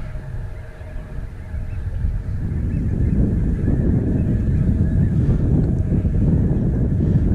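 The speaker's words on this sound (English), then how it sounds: "you can see the geese now taking flight." Snow geese honk continuously in flight over strong wind rumble, a steady chorus of calls building slightly louder as the clip goes on.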